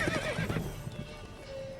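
A horse in The Witcher 3 video game, neighing briefly and then cantering with clip-clop hoofbeats. Short and fairly quiet, with no talk.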